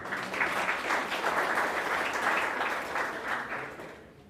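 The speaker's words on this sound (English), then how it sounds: "Another round of applause for them." A round of applause from the audience at the WESSA Blue Flag and Green Coast environmental awards ceremony, steady moderate clapping that fades toward the end.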